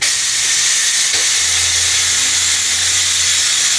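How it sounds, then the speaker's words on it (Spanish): Steam hisses loudly and steadily as pressure is released from a pressure cooker after cooking a prawn risotto, a dense continuous rush with a low rumble underneath. "No tocamos esa olla hasta que deje de salir vapor por ningún motivo."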